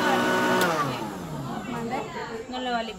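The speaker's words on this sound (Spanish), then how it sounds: "Jugo, jugo de limón, un poquito solo para licuarlo." A blender whirs steadily, blending lime juice and cilantro into an aguachile sauce, its motor drone loud and close with voices talking over it.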